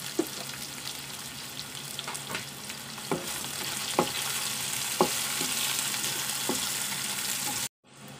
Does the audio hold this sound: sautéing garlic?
yes